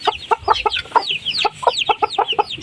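Silkie chickens clucking close by during feeding, a quick run of short, repeated bright clucks and chirpy calls in uneven bursts.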